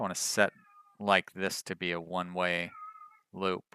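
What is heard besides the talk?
pet cat meowing and running around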